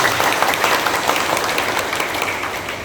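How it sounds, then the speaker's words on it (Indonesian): Audience applause at a village head inauguration in Cilacap, honouring the regional leadership forum: a dense, steady wash of many hands clapping, holding at an even level and tapering slightly toward the end. "Tepuk tangan untuk Forkominda."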